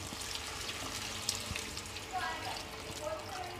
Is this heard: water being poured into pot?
yes